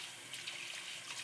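Cold water runs from a kitchen tap into a sink, a steady close hiss and splash holding at an even level throughout, with no voices.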